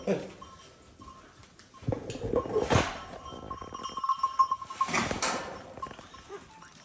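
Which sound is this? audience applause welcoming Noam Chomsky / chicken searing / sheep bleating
sheep bleating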